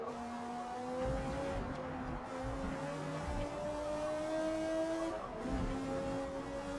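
Race car engine in a racing video game at Spa, a McLaren, pulling up through the revs out of a corner with rising harmonic whine, a brief lift near five seconds, steady and close throughout.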